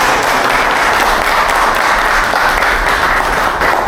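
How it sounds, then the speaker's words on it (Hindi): A crowd at a KTM Duke 160 motorcycle launch event in the Bhiwandi showroom breaks into loud, dense applause, a continuous close wash of clapping that holds steady throughout. "सो एक बार जोरदार तालियां KTM भिवंडी के लिए।"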